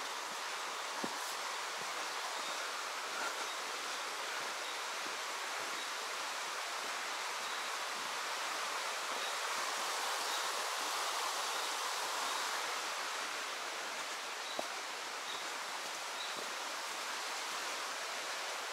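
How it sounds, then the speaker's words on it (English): Small rapid in a Far North Queensland creek, water running steadily with a constant broadband rush throughout, close and even, no talking. "It's a nice sound, that running water."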